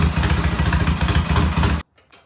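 A 1973 Norton motorcycle fitted with an Alton starter runs loudly up close with a fast, throbbing engine rhythm, then cuts off abruptly into near silence with a faint trailing sound.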